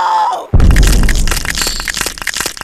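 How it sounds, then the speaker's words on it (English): A stink grenade goes off in the video game Happy Wheels as a sudden loud crack and burst, followed by a dense, crackling rumble of debris and scattered pops that trails on for a couple of seconds. "Ah, stink grenade."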